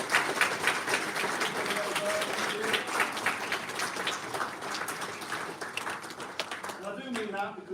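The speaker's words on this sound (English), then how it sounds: "let's join me and give them a round of applause" An audience at a University of Hull employability awards ceremony applauds steadily, many hands clapping in a dense, sustained patter that thins slightly toward the end, with a voice briefly audible.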